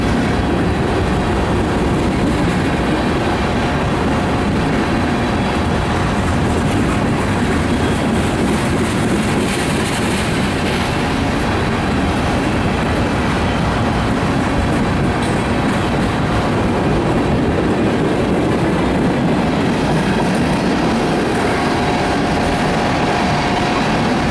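A short CSX mixed freight train, westbound, rolls past at close range. It makes a loud, continuous rumble with rhythmic wheel clatter and occasional squeals that last the entire passage.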